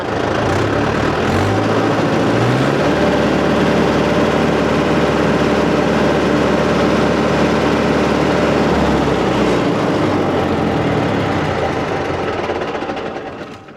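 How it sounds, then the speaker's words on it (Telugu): A Mahindra 575 DI tractor diesel engine runs close and loud, a continuous low idling throb that rises in revs, holds steady, then settles back toward idle. "మీకు సౌండ్ కూడా వినూర్రి, ఇంజన్ సౌండ్."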